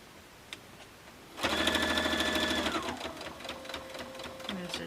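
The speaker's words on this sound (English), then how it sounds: "I'm going to stitch up to that." Sewing machine stitching a quilt made from 10-inch square blocks, starting abruptly with a loud rapid run of stitches, then slowing into lighter, more intermittent stitching with small handling noises.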